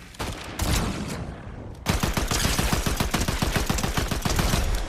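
Automatic weapon fire in Fortnite: after a couple of scattered shots, a long rapid burst of evenly spaced, loud close-up gunshots rattles on for about three seconds without talk.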